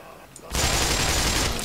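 A shotgun blast from the video game Black Mesa erupts loud and close after a brief quiet moment, a dense burst of noise sustained to the end of the short clip.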